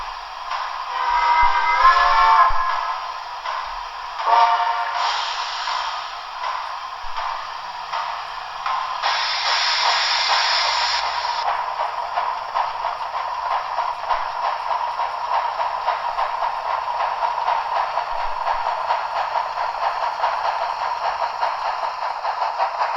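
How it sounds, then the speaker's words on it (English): Märklin/Trix H0 Shay steam locomotive model sound: hissing steam and whistle-like tones with mechanical chuffing, fairly loud and continuous, alone without talk. "Of course, it has a corresponding steam locomotive sound"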